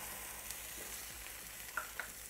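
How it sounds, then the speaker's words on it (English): A steady, quiet sizzle of onion, pepper and garlic frying in olive oil in a pan, with a few soft clinks and stirring sounds over the constant crackle. "while that's sizzling away, let's get our veggies in"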